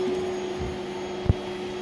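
A vacuum cleaner runs continuously with a steady droning hum as a young child hoovers the floor indoors, with a couple of soft bumps and one sharp knock as the nozzle moves.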